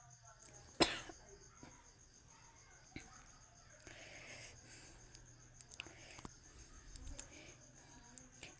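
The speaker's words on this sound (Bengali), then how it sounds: "আমার খুব কাশি হচ্ছে বন্ধুরা" A person gives one sharp, close cough, followed by softer throat sounds and faint whispering during a village Ras Purnima festival outing.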